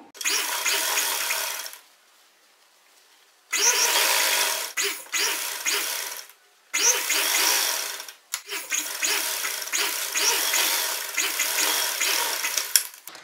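A domestic sewing machine stitches a kurti seam in four steady runs of mechanical whirring, separated by short pauses and a brief silent gap near the start.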